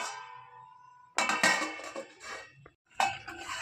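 A metal plate clanks and scrapes down over a cooking pan of green peas masala, in two close bursts of clinking separated by a brief pause.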